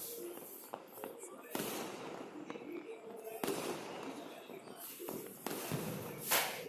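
Diwali firecrackers and sky shots go off across rooftops in Hosur: repeated sharp bangs and crackling bursts, some near and some distant, with voices in the background.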